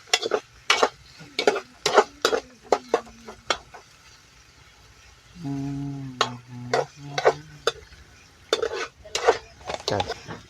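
Tomatoes stirred into potatoes frying in a pan, with a run of sharp spoon-against-pan scrapes and clinks, a short steady hum partway through, then more clattering stirs over a faint sizzle.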